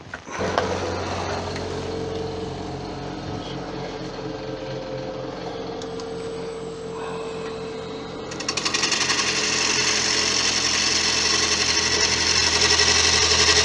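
A blunt woodturning tool held against a powered sharpening grinder, giving a continuous mechanical whir that grows harsher and brighter partway through as the edge meets the wheel.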